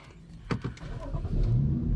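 A BMW X3/X4 engine cranks and starts up after a transmission flash update: a short burst of starter clicks followed by the engine catching and settling into a low idle rumble, close by and fairly quiet.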